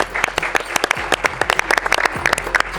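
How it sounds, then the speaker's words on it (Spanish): A crowd applauds young academy footballers of Atlético Malagueño, Málaga's reserve side, with sharp, dense claps rising and falling steadily throughout. "Fuerte aplauso para ellos."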